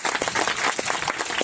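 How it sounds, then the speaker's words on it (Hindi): Seminar audience breaks into applause, a dense steady patter of many hands clapping at close range throughout, with no talking over it. "आप एक बार जोरदार तालियां बजा दीजिए।"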